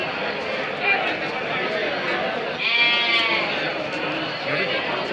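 Sheep and goats bleating at a weekly Tuesday livestock bazaar in Tumakuru, repeated calls rising over a steady crowd murmur, with one louder nearby bleat standing out in the middle.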